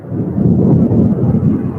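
Loud, close thunder rumbling continuously from a monsoon storm in Arizona, with a heavy low roar filling the whole stretch and no talk.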